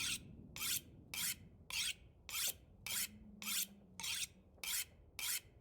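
Tool being sharpened on a whetstone in the video game The Long Dark: ten evenly spaced rasping strokes, each a short gritty scrape, repeating in a steady rhythm over a quiet background.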